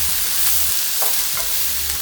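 Vegetables stir-frying in a pan for a tofu dish, a constant hissing sizzle with occasional scraping stirs and low clunks, close and steady with no talking.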